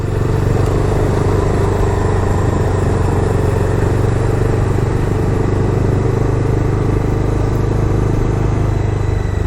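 A Bajaj Dominar 250 BS6 motorcycle (2022) riding onto a highway, its engine a loud, steady, close drone with constant wind rush and no break throughout.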